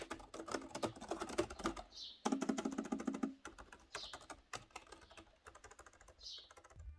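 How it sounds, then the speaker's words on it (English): Rapid clicking of keys on a Vastking Kingbook K100 laptop keyboard, steady bursts of typing with brief pauses, close up. "Here's a test about the typing quality."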